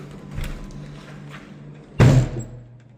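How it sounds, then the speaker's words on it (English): A single loud door bang thuds in a hotel luggage area, a sharp close slam near the end after quieter room noise. "Banging doors."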